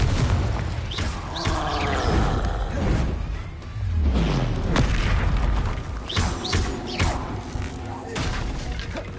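Fire spell blasts boom repeatedly in the Hogwarts Legacy video game, heavy thuds and whooshes layered over a dense combat soundscape with voices calling out spells.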